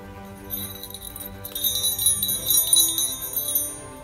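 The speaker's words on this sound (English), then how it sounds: "I shook the bell." A small silver bell jingles and rings with bright, shimmering tones, growing busier partway through, heard alone over a soft background of sustained music.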